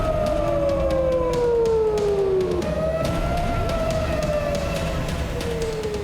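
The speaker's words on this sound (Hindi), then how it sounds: "इससे इजराइल के कई क्षेत्रों में सायरन बजने लगे।" Air raid sirens wail across Israel, several overlapping tones sliding slowly up and down, loud and sustained over a constant background rumble.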